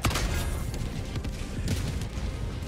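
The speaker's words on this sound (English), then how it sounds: "that's a lot of explosions" Gunfire and explosions in the video game Helldivers 2, with rapid booms and bursts tumbling over one another in a dense, loud barrage that never lets up.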